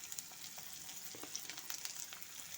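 Chopped onion sizzling in hot mustard oil, a dense close hiss with faint crackles and light stirring taps throughout, no talk.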